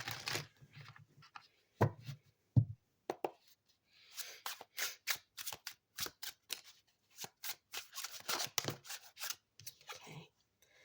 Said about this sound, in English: let's pull some tarot from the Rider-Waite